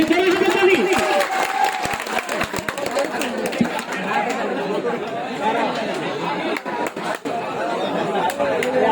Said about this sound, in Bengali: আপনারা জোরে একটু হাতে তালি দেন দর্শকদের কাছে